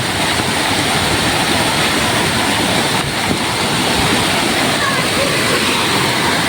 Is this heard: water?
yes